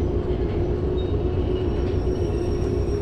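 A train in the video game Derail Valley rumbles along steadily with a continuous low drone and a faint high whine, close and constant, without any talking.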